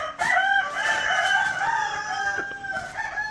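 A rooster crows nearby in a long, wavering call lasting most of the few seconds, loud and clear over faint farmyard background.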